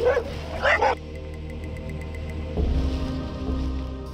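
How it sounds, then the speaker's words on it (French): A dog barks a couple of times close by, then a steady hum of an idling vehicle continues with faint background noise. "C'est le chien de Mad Max, ça, non?"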